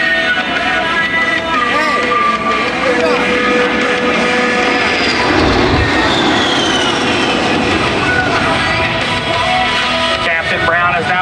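An A-10 Thunderbolt II jet at Peoria Airport flying a jinking maneuver, a loud, sustained roar with shifting whining engine tones that rise and fall as it passes, heard with a voice speaking over it.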